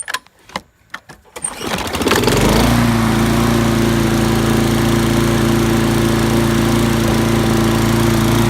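A self-propelled gas lawn mower of uncertain age is pulled a few times, then its engine catches and settles into a loud, steady running drone that continues to the end.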